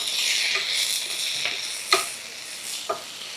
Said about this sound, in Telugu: ఇలా ఫ్రై అవుతుంది